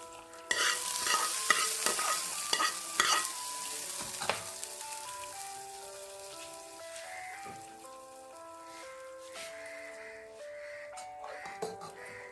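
A hot tempering of mustard seeds and dried red chillies sizzles and crackles as it is poured into cucumber kichadi and stirred, with spoon scrapes and small clinks close by and no talking.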